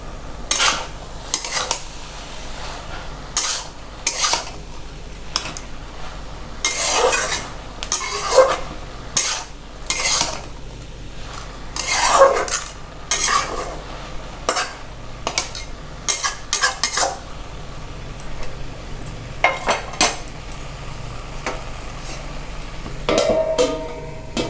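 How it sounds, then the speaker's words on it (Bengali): Spoon stirring ash gourd and egg curry in a pan, with repeated scraping and clinking strokes against the metal over a low sizzle, steady and fairly close, no voices. "এবার এটাকে একবার খুলবো, খুলে আর একবার ঘেঁটে দিয়ে আবার ঢাকা দেবো"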